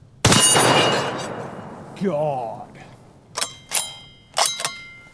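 A .300 Win Mag rifle fires a sharp, loud shot, and a moment later the distant yellow steel gong rings with a wavering clang. A few further metallic clinks follow, and a voice speaks briefly.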